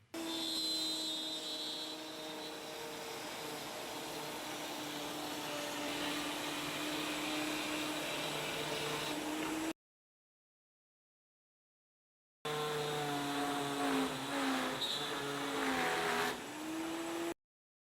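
A router on a Rockler ProMax router table cutting dados and rabbets, a loud steady whine running for about ten seconds, then after a pause a second run with shifting pitch as the wood is fed through.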